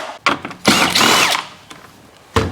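A power tool backs out three screws on a Honda HRX 217 lawn mower while the coil is being reached, giving close, loud, whirring bursts separated by short pauses and a final quick spin, without speech.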